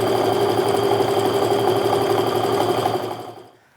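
A sewing machine runs steadily while stitching a quilt seam, a fast, even mechanical whir heard close up and alone, winding down and stopping at the end.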